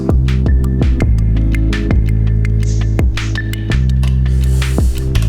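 A loud, booming kick drum thumps in a steady beat, driving a dense music mix with hum and high percussion over it.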